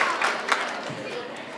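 An audience at a Saraswati Puja celebration claps in a short burst of applause, a dense crackle of hands mixed with crowd murmur and a voice.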